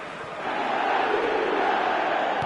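Steady crowd roar swelling in a football video game after a Real Madrid goal, a broad sustained wash of cheering that rises after the first half second and holds loud.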